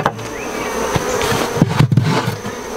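Honey bees buzz loudly and close at a hive while a young colony is split, a steady droning hum with scattered knocks and thumps from frames being handled.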